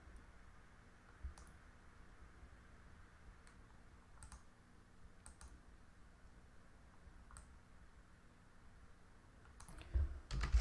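A computer mouse gives a handful of faint, sparse clicks at irregular intervals in a quiet room, with a slightly louder knock near the end.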